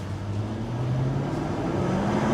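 Jaguar F-Type V8 driving on the road, heard from inside as a low steady engine drone with faint road rumble, a gently rising tone, continuous and moderately loud without speech.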